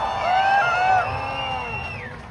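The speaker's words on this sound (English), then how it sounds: "Everybody give Daijiro a round of applause." Cheers, whoops and shouts from a night-time crowd in Long Beach greet a Formula Drift legend. The burst is loud and close at first, then tapers off within a couple of seconds.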